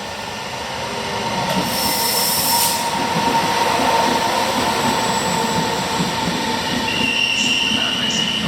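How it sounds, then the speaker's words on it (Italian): A train rushes through platform 4 at Milan Rogoredo station in the rain, a loud sustained roar with rattling wheels and faint squeals, close by and steady throughout with no voices. "Attenzione! Treno in transito al binario 4."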